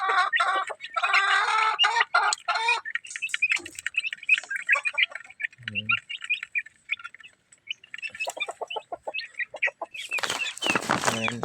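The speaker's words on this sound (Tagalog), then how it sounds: "Maganda ng mga sisiw." Month-old chicks in a backyard cluck and peep close by in quick, repeated bursts, with overlapping chirps rising and falling and a denser flurry of calls near the end.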